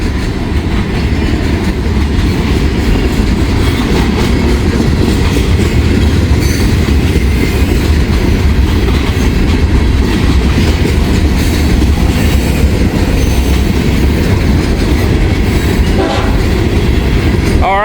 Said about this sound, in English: The train that's sitting down there is getting ready to move.